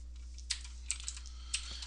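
Someone types on a computer keyboard while writing math code, a few separate key clicks and taps over a low steady hum, with no voices.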